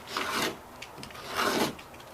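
Knife or rasp cutting back the edge of water-damaged ceiling drywall, two close, gritty rasping strokes separated by a brief pause.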